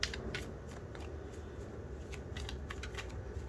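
A deck of cards is shuffled up close, quiet crisp riffling bursts repeating irregularly over a low steady background hum, with no voices.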